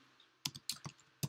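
Keystrokes on a computer keyboard, about five distinct clicks in an uneven rhythm, close and fairly quiet, with no talking.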